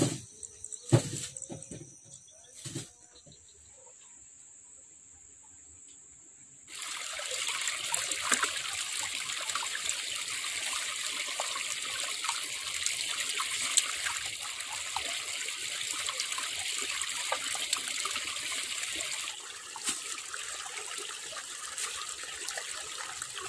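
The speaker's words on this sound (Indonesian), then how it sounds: "sekarang kita akan lanjut cuci dulu si bangkuangnya, karena lihat ya bekas-bekas tangan." Jicama being washed under running water: a few brief knocks and faint handling, then a tap opens into a steady close rush of flowing water that continues to the end.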